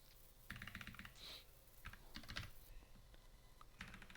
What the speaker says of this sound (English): Let me type this actually.